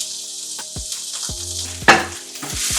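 Crushed garlic paste hitting melted butter in a pan, a continuous close hiss with a sharp burst of sizzle midway and a few soft knocks of the spoon, no voices.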